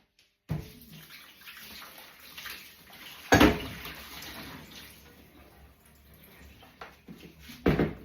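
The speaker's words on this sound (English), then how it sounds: "Put some fresh water in the kettle for tomorrow." Tap water runs and splashes into a kettle at close range, with a couple of sharp clunks as it is handled.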